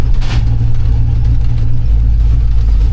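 A Twinnebago motorhome drives along and slows for a brake test, giving a steady, loud low-pitched engine and road rumble that runs unbroken, with no voices.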